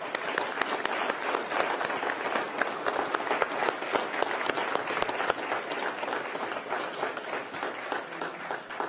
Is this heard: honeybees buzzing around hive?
no